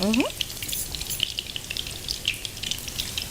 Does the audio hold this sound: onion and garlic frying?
yes